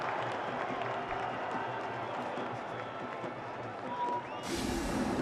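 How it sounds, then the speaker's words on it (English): Broad crowd noise at an India vs Bangladesh cricket match, a steady roar of spectators with scattered clapping after a fielding stop, continuous throughout with no pause. "And get a round of applause, Shaki, when he stops it."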